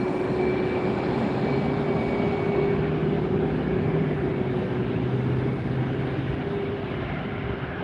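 Douglas DC-3 piston airliner just after landing, a continuous steady engine drone with a faint whine, even and sustained from a distance with no talk.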